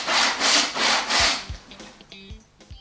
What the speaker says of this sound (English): finishing the rip accurately with a vertical saw cut